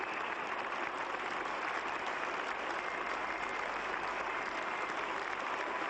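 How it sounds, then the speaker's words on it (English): A cricket crowd at Lord's, England versus West Indies in the 1980 second Test, applauds a departing batsman, steady sustained clapping from a large distant stand with no break. "now applauding him generously"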